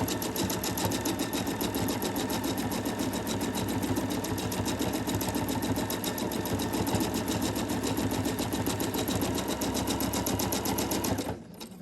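A sewing machine runs steadily and loudly while stitching a free-motion quilting coil on a quilt-as-you-go block, its fast regular needle rhythm continuing without a break for nearly the whole stretch before cutting off at the end.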